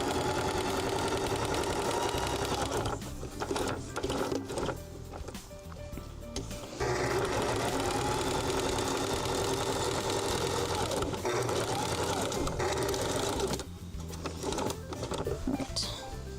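A sewing machine running a straight stitch, a continuous mechanical whirring with a few brief dips and pauses, close and moderately loud.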